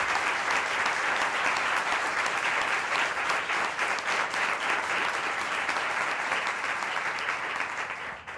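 Sustained applause from a seated audience at a reflection-day panel on actors and the audiovisual industry, steady and dense for about eight seconds before thinning slightly at the end.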